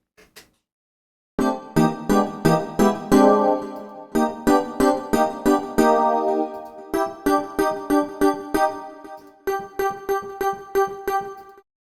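A MIDI real-time harmonizer plays bursts of repeated synthesized chords in quick rhythmic groups, with the number of notes in each chord changing between phrases, loud and clear with no talking.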